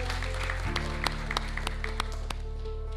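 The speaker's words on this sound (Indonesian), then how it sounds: "Tepuk tangan untuk Pak Muh" Audience applause greets Pak Muh Maritan, head of the Central Java provincial futsal association, at a Pekalongan event, steady crowd clapping running throughout over a low hum, with a few sharper individual claps standing out.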